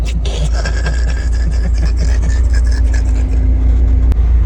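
An old car's engine runs steadily and loudly up close, a low rumbling drone with a faint scraping rattle layered over it throughout.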